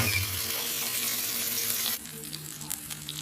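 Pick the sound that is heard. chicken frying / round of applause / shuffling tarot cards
chicken frying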